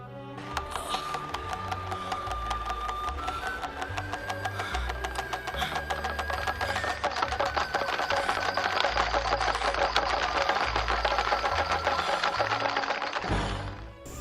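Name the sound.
Chinese/Okinawan rattle drum, Den-Den Daiko, being twirled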